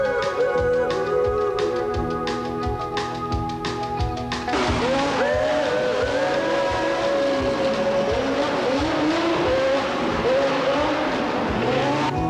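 Legends race cars with 1937 Chevy Coupe bodies racing together, a dense pack of loud buzzing engines with tyre squeal, close and continuous, with a commentator's voice over the noise.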